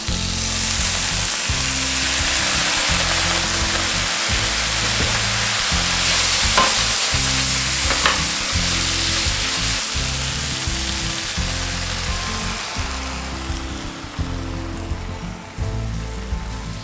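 Vegan lamb in sacha sauce simmering with added water in a wok, giving a steady, close, fairly loud bubbling sizzle with a few faint utensil clinks and no talk.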